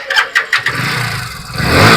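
A BS6 motorcycle engine is started: a few quick cranking pulses, then the engine catches and settles into a steady running idle that grows slightly louder, close by, with no talking.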